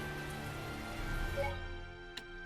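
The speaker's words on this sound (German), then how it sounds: "So wie es hier regnet" Rain falling in a gloomy town in the video game Tales of Zestiria, a soft continuous patter with faint background game tones, steady and quiet with no voices.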